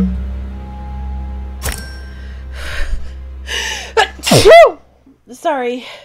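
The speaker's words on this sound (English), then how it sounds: "That was a sneeze." A single loud, close human sneeze with a sharp gasping intake, followed by a brief spoken word.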